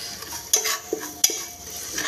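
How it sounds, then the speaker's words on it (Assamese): A spoon stirs chicken masala spice mix into chicken curry in a pressure cooker, giving a few quick, close scraping strokes against the pot with a soft sizzle underneath. "আৰু লগালগ এইটো লৰাই দিব।"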